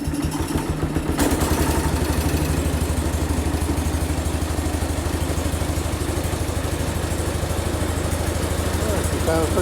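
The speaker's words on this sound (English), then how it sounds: "We'll rev her up a little bit." A small engine idles with a steady low throbbing, then the revs climb after about a second and hold at a higher, rougher pitch with mechanical clatter throughout, close and loud.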